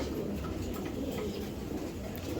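Racing pigeons coo steadily at close range, a low continuous murmur from several birds with faint background noise and no talking.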